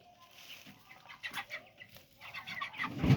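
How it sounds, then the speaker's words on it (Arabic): Backyard chickens being raised for Ramadan cluck repeatedly at moderate distance, soft calls rising and growing louder toward the end with a low rustle underneath. "حبيت بس اوريكم شكل الفراخ"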